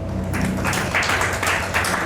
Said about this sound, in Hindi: तो एक बार फिर से तालियां।